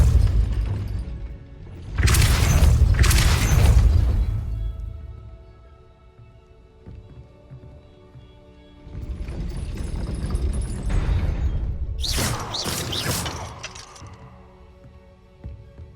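Depulso spell in Hogwarts Legacy raising a gate: two bursts of rumbling, clanking mechanism noise with a heavy low thud, each a couple of seconds long, separated by a quieter stretch; no speech.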